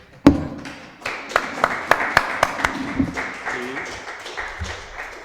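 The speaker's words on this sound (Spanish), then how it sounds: "lo que menos se merece es que te aplaudamos por esta brillante exposición" Sparse applause after a lecture in a history talk series: a few loud distinct claps at first, then a thin smattering of handclaps that fades within seconds, with faint murmurs.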